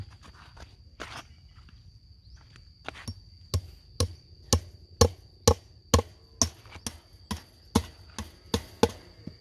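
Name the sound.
hammering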